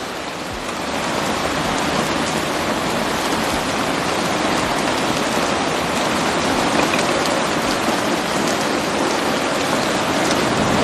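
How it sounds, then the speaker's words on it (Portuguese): Heavy rain pours steadily, a dense, even hiss of drops hammering a surface, continuous and loud with no talking. "Olha isso, tá chovendo bastante."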